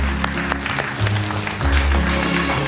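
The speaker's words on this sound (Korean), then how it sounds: "최남안 여사를 여러분 박수로 맞아주시면 고맙겠습니다" A studio audience on a Korean senior talk show applauds to welcome a guest, giving steady, moderately loud clapping over a low, humming musical bed.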